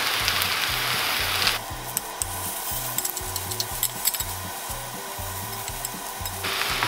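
A venison shank sears in an Instant Pot, with a steady close sizzle throughout and rhythmic scraping and thumping as the meat is turned against the pan, and no speech.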